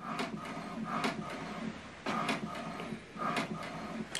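An HP printer prints an alignment page, whirring and rattling with its carriage making repeated sweeping passes at an irregular rhythm, heard up close with no talking.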